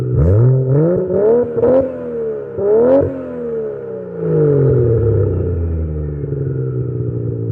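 A loud, raspy car exhaust with only two mufflers and a 100-cell cat revs in short bursts, pitch rising and falling, then settles into a deep, burbling idle close by.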